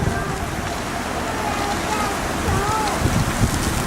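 Strong wind roaring through a snow blizzard, a steady broadband rush that buffets the microphone continuously, loud and close throughout.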